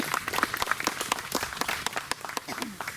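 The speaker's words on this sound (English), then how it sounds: "How about a nice round of applause for our Color Guard?" Applause for a color guard of musket and flag bearers at a grave marking ceremony: a short burst of scattered, uneven hand clapping from a small outdoor crowd, with a voice speaking over it.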